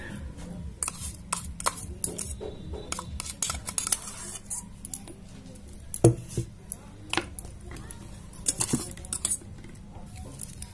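Ground spinach being scooped from a mixer grinder jar for spinach kebabs, with repeated metallic spoon scrapes and clinks against the jar, close and fairly loud, in uneven bursts without talk.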